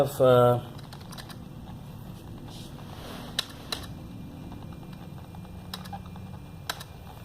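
A short electronic beep, then a few sparse, quiet keystrokes on a computer keyboard while entering a name on a Windows IoT facial-recognition door system.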